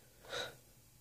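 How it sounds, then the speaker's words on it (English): One short, faint sneeze bursts out close by, then quiet follows. "Every single video I sneeze in."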